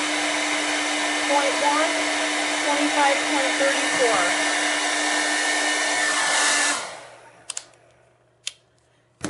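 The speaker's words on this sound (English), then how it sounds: "That was the blow dryer on high." Hair dryer running steadily on its high setting, a loud continuous whooshing roar for most of the stretch before it cuts off, followed by a few faint clicks.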